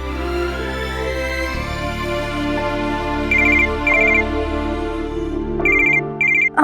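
A telephone rings in repeated short electronic bursts, loud and close over a sustained low musical tone, with no talk.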